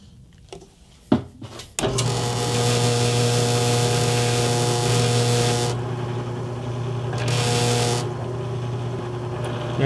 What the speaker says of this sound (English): Clamp it down, lube it up, drill some holes.